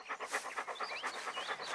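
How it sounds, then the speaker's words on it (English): A dog pants heavily in an audiobook sound effect, quick rhythmic breathy huffs repeating close to the listener for a couple of seconds, with no talking over it. "Hot to hear him too, panting like a steam engine."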